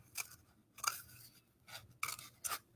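Scissors snip through cardboard toilet paper tubes, cutting them in half: four or five short, crisp crunching cuts spaced irregularly, close and quiet, with no talking.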